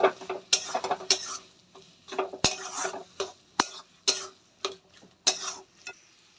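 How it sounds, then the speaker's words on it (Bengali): A potato mixture for aloo fokra is stirred in oil in a pan over a low gas flame, producing a steady series of close, rhythmic scraping strokes of a spoon against metal with light sizzling between them. "আমি তেলের মধ্যে এই মিশ্রণটাকে ভালো করে মিশিয়ে নেব।"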